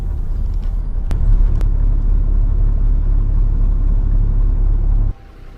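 Vehicles idle in a traffic jam on a mountain road between Kaza and Shimla, a steady loud engine rumble close by that drops off abruptly near the end.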